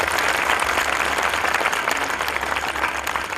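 A festival audience at an outdoor stage claps loudly and steadily in dense, continuous applause, with faint crowd murmur beneath and no break in the sound.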